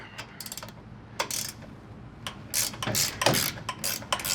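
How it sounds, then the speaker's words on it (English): A ratcheting wrench breaking loose the strut nuts on a 2021-or-newer Ford F150, heard as bursts of quick clicking ratchet pawls in short, irregular strokes, close up and with no talking. "Here we have a ratcheting wrench. Just break them loose."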